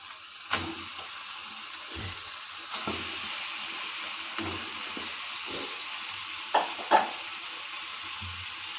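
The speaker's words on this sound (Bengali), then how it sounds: "মুরগির মাংস যোগ করে দিচ্ছি" Chicken pieces sizzle in a hot wok for a Bengali thin chicken curry with winter mixed vegetables, a steady frying hiss broken by several scraping stirs, close and alone with no talk.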